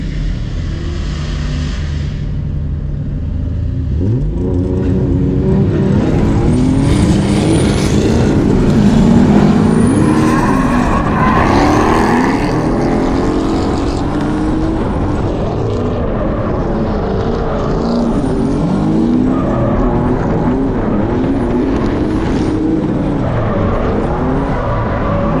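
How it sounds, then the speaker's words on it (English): Drift cars at a drift competition, following a Corvette: loud, close engine roaring continuously, revving up and down in long sweeps with tire noise, no talk. "Alright guys, so I'm gonna follow my friend Angel with the Corvette."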